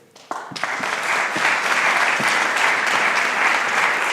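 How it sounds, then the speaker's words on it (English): Audience at a lecture on workplace democracy bursts into applause after a few scattered early claps, then keeps a full, steady round of clapping throughout. "Please, a round of applause."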